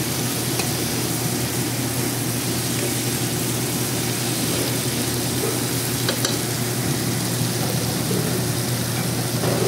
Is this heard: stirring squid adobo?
yes